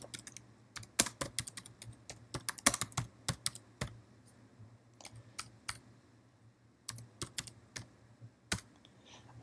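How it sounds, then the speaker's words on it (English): Computer keyboard typing, close clicky keystrokes in quick bursts with short pauses between, alone without any voice. "so I'm going to type that in."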